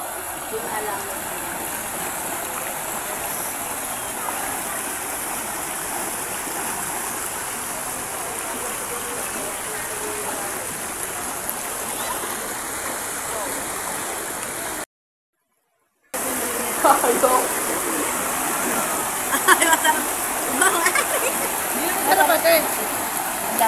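River water rushing and splashing while people bathe in it, a dense steady wash with a brief gap, then brighter splashes and people talking over the flow.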